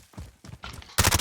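Gunfire in the video game Call of Duty Warzone, a few spaced shots followed by a loud rapid burst of fire, short and close.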